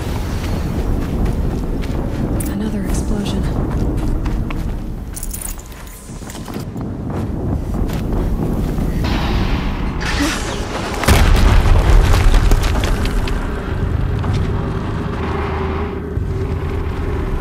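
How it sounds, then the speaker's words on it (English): A deep, rolling explosion rumbles through the PS5 video game Horizon Zero Dawn, a loud, sustained boom with a sharp swell partway through and continuous low roar around it. "Another explosion."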